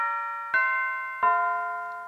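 A clock bell chiming the three-quarter hour: two resonant strikes about a second apart, each ringing on with a long, sustained tone that slowly fades.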